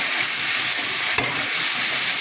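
Potatoes and plantain frying in a pan with salt and turmeric, a loud steady sizzle with stirring scrapes and one brief clatter, no voices.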